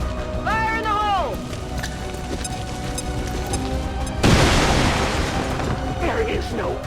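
A grenade in XCOM 2: War of the Chosen goes off with one sudden loud blast and a rumbling decay, following a soldier's shouted callout and some whistling game sounds.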